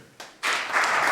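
A comedy show audience breaks into applause after a faint start, and the clapping swells quickly into a dense burst that continues to the end.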